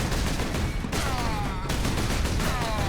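Rapid volleys from a Stalker Pattern Bolter in the Space Marine video game, dense overlapping bursts of gunfire that rattle on without pause at a moderate, mid-distance level.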